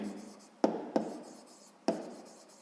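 Pen on paper writing math work, heard as three quiet, short scratchy strokes spaced irregularly against a faint room hush.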